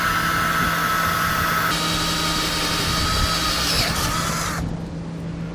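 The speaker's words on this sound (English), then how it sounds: "I'm going to be drilling a hole so that we can relocate those grounds. I'm using a 1/4-inch drill bit." A power drill with a 1/4-inch bit bores a hole in a 2015 Kia Soul during a base plate installation, a steady loud whine that shifts pitch partway through and stops near the end.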